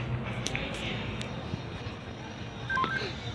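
Cell phone keypad tones from a prison escape video game, a few short beeping dial tones near the end over a steady background hum, with game sounds throughout.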